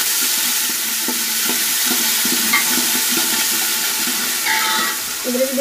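Ginger-garlic paste and green chillies fry for fish biryani with a loud, dense, continuous hiss. Faint scrapes of stirring run underneath, and a brief higher tone rises near the end.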